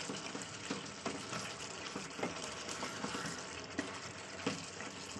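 Water poured into chicken curry simmering in a pan, giving a steady low splashing and trickling hiss with a few small pops, continuous and moderately quiet throughout.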